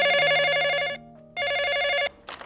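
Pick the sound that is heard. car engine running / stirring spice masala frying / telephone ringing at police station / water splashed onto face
telephone ringing at police station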